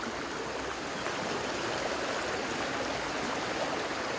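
River water rushing over rocks beside a Hyrcanian forest in Fumanat, a steady, dense broadband flow with no pauses, close and fairly loud, with no voices.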